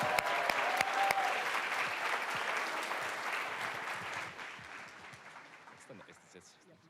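A crowd at a university startup showcase breaks into sustained applause to welcome a presenter, loud at first and then slowly fading over several seconds.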